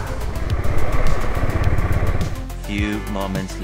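Motorcycle engine running steadily at a toll plaza stop on a ride toward Konkan via Tamhini Ghat, a low rumble throughout with a brief shift near the end.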